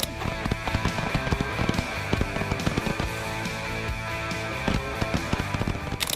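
Rapid crackling bursts and sharp pops from an expensive firework go off continuously, dense and busy, at moderate distance.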